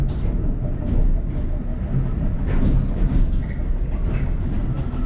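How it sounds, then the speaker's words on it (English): Heritage railway carriage ride on the Bala Railway, heard from inside the carriage pulled by the train: a steady, loud low rumble of wheels on track with faint rhythmic clatter running throughout, no speech. "we're in the carriage being pulled by the train this time"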